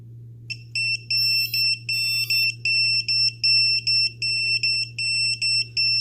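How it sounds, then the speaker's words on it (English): A Mobula 7 drone's onboard buzzer beeps in a fast, steady series of shrill electronic pulses over a constant low hum, loud and close, with a few higher chirps mixed in near the start. "Oh, the buzzer works. Let's check our beeper out. Beeper's working, so that's good."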